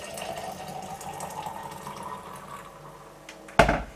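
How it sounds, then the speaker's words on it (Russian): A hot drink is poured steadily into a thermos with a continuous liquid trickle, ending in a sharp clunk as the pouring stops. "заливаем наш напиток в термос"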